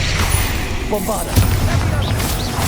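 A Bombarda explosion spell in Hogwarts Legacy bursts with booming, crashing impacts amid magical whooshes and brief voice sounds, dense and loud over a short stretch.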